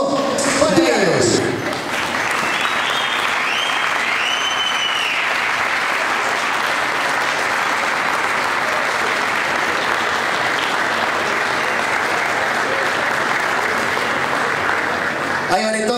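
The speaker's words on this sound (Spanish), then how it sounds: "Fuerte el aplauso, Matías." At a football club's official 2017 team jersey presentation, a crowd breaks into dense, sustained applause that holds steady and loud for the full stretch, with a little talk at the very start.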